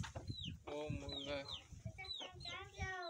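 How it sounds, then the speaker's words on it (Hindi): Roosters cluck and squawk close by in short, repeated bursts through a rural outing, with people talking over them. "कौन से मुर्गे, ये मुर्गे हैं"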